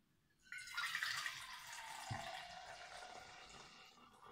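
Coffee poured from a spout into a 500 ml stainless steel thermos cup, a steady liquid stream starting abruptly and continuing with a soft splashing hiss, close and fairly quiet.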